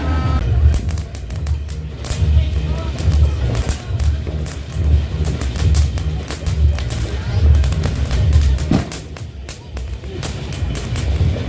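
Crackling fireworks set off during New Year celebrations in the Philippines, a dense continuous sputter of sharp pops and crackles with deeper thumps underneath, loud and sustained throughout.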